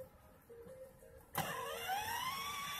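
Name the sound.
Mercedes-Benz car pulling off as driver presses gas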